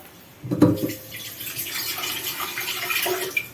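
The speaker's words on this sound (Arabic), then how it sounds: "طبعا هنعوز ميه تاني، ثانيه واحده اجيب ميه" Water runs from a kitchen tap while pickled turnips are being prepared, starting with a louder splash and then flowing steadily at moderate level, with a few faint clinks near the end.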